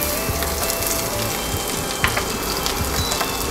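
Garlic sizzles in hot mustard oil in a kadhai, a steady, close, crackling fry with sharp pops scattered throughout.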